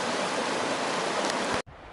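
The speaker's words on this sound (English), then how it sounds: "Such a pretty little river, stream." Small river stream flowing beside a hiking trail on the Pacific Crest Trail, a steady broadband rush of water, close and fairly loud, cutting off abruptly near the end.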